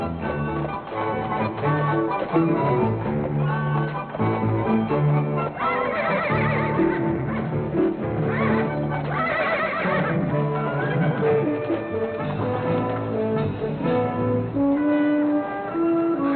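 Horses whinnying over a 1970 western film score, shrill neighs rising out of loud orchestral music with faint hoof clip-clop underneath.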